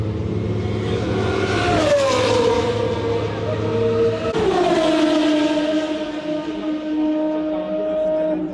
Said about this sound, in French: on a les moteurs en route, les moteurs sont en route